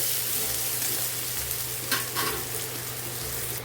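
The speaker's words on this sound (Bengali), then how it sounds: "এখন কুচনো পেঁয়াজটা দিয়ে দেবো কুচনো পেঁয়াজ আমি নিয়েছি দুটো বড় সাইজের কেটে নিয়েছি এটা এখন ব্রাউন করে ভেজে নেবো" Two large chopped onions fry in hot oil until brown, giving a steady close sizzle with a couple of brief stirring bursts partway through.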